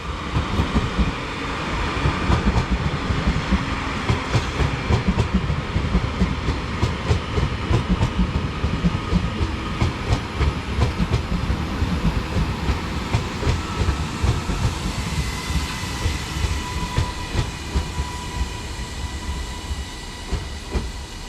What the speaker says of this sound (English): arriving now is the 1228 Transpennine Express service to Manchester Airport from Edinburgh